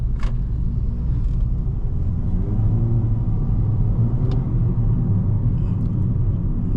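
A 2022 Toyota Corolla Altis GRS accelerating, heard from inside as a steady, loud low engine and road rumble that holds throughout without speech.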